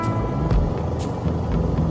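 Radiator fan running at idle on a 2009 Toyota Vios, a steady close whooshing hum with low engine rumble underneath, no talking.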